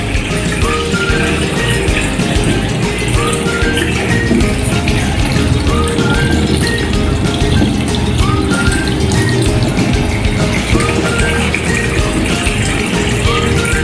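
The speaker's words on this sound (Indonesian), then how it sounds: "membilas tangan dengan posisi telapak tangan lebih tinggi dari siku" Steady running water from a tap while hands are rinsed, forearms held with palms above the elbows, a continuous close gush and splash with faint rattles and no voices.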